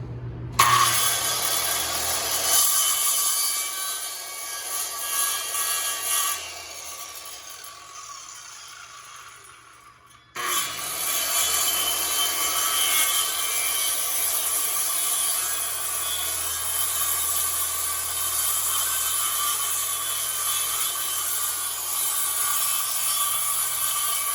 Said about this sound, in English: The saw will just barely skim on each end, and we should be taking off a 1/16 of an inch in the middle.